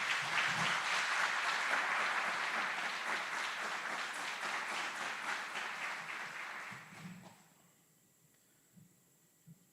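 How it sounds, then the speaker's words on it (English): A crowd at an Army aviation brigade graduation ceremony at Fort Eustis applauds drill sergeants and instructors, loud and sustained for several seconds, then thinning out and fading into near quiet. "Please join us in giving a round of applause to these outstanding drill sergeants and instructors."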